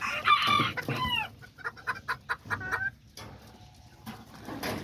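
A silkie rooster crows a few times nearby, followed by a run of short clucks, then quieter outdoor background.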